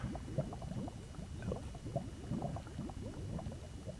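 Water scooped up with a bucket in Minecraft, heard as a soft, continuous bubbling and gurgling of liquid, fairly quiet and steady throughout.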